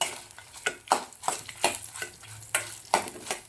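Fenugreek, coriander seeds, garlic and byadgi chillies dry-roasting in a pan: a string of close, rhythmic stirring scrapes about every half second over a soft crackle, with no voice.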